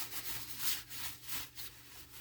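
A cloth is rubbed back and forth over freshly stained wood to wipe off the excess stain, making soft, rhythmic scrubbing swishes with no talking.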